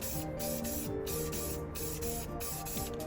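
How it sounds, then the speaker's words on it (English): Silver spray paint hisses from an aerosol can onto a cheap plastic water blaster prop in short repeated bursts with brief pauses, close and steady, with faint mechanical tones beneath. "I lightly sprayed the rest of the blaster with a silver spray paint"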